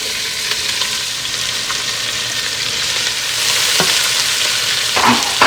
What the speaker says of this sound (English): We have 2 whole onions that I diced up earlier, and we're going to add that right to the pan.